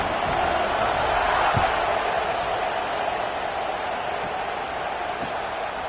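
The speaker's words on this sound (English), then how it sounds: "this crowd is buzzing after that last score." A college football video game stadium crowd for Texas at Michigan gives off a steady, broad roar that holds evenly throughout, with faint thumps and no clear individual voices.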